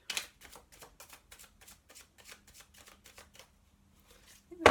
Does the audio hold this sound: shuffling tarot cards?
yes